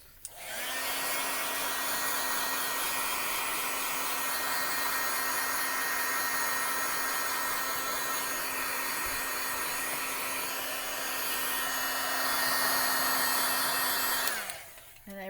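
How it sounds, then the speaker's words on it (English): Crafting heat tool blowing on freshly stamped ink for a Christmas wreath card, a steady whirring hum that runs about fourteen seconds nearly unchanged before switching off, close and alone. "Just because it's freshly stamped, I'm going to real quick hit it with the heat tool."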